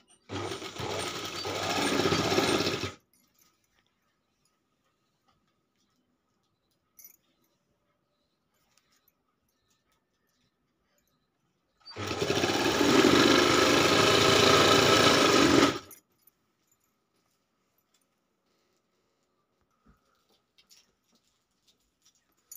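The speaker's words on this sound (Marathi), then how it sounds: "पहिली जी तर शिलाई मारली होती आपण त्यावरच आपली दुसरी शिलाई यायला पाहिजे दुसऱ्या साईडने" A sewing machine stitching a baby quilt made from old recycled cloth, running in two loud, steady bursts of about three and four seconds, separated by a long quiet stretch with only faint handling clicks.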